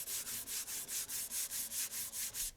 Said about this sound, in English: sounds like a shaker, doesn't it?